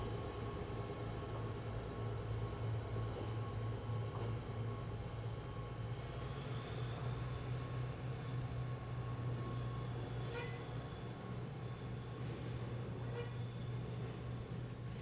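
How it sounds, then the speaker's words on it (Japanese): A JR Freight DD200 diesel locomotive slowly moves off with a freight train in Toyama, a low steady engine hum and rumble heard faintly from a distance with faint squeals of rolling stock. "DD200 はゆっくりと動き始めました。"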